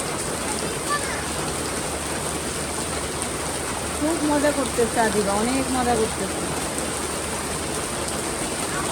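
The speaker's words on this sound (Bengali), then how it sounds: "আমাদের সাভারে প্রচুর বৃষ্টি হইতেছে" Heavy monsoon rain pours steadily in Savar, a dense continuous hiss, loud and close, while voices and a child's excited calls rise briefly over it midway.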